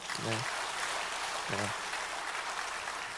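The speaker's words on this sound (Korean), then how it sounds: "박수 한번 할까요?" Faint, soft applause from a Sunday worship congregation at church carries on steadily, with two short voices briefly rising over it.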